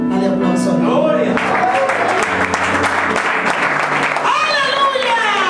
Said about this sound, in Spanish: Dale aplauso